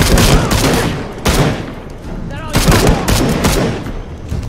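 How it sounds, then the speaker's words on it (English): Bursts of rifle gunfire in the action game Shadow of the Tomb Raider, set in Peru: loud rapid volleys of close shots in several clusters, with quieter gaps between them. "Okay, I like this rifle."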